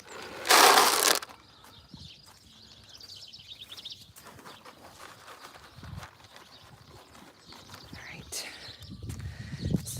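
Farm animals eat feed with soft crunching and shuffling hooves nearby, opening with a loud rushing burst of noise, then quieter munching and movement with birds and occasional human sounds in the background.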